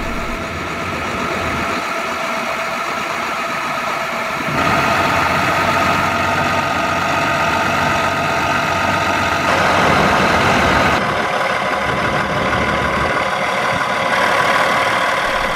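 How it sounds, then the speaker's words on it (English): A 1996 Peterbilt 378 truck with a Cat 3406E diesel engine rated at 435 horsepower idles in a steady, even drone that carries on without pause and holds a constant loudness throughout, with no voices heard. "Cat 3406E diesel engine making 435 horsepower, married up to a 13-speed transmission."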